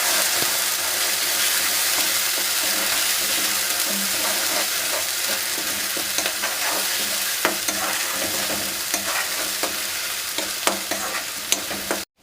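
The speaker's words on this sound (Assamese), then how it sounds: "এনেকৈ ভাজি থাকিম।" Egg curry sizzles steadily in a hot pan, a continuous broadband frying hiss with scattered clicks of a utensil stirring and scraping through it, close and fairly loud throughout with no talking.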